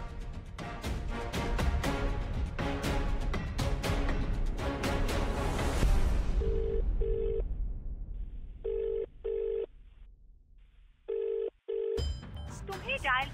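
A telephone call going through on a Marathi TV serial: after music and background sound fade, short repeated electronic phone tones pulse in even bursts, fairly clear and close.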